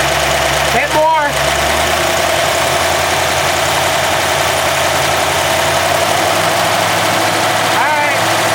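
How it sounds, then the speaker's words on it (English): A Ford F100 truck engine idles with a rough, steady rumble as small throttle blips lift it briefly near the start and end, heard up close. "Give it a little bit of throttle, Bill."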